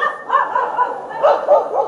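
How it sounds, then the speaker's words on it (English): A pack of dogs barks in a sound effect, a run of close, loud, repeated barks and yips in quick irregular rhythm with no talking. "How many dogs? A pack of dogs."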